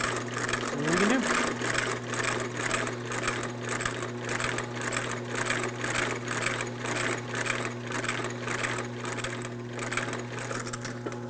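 A cobbler's sewing machine stitches a shoe in a repair shop, a steady motor hum under an even, rapid mechanical clatter of needle strokes, continuous and close.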